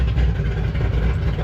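A rain-soaked Ford Mustang S197 with the 3-valve engine idles in a steady, close, low rumble with no breaks.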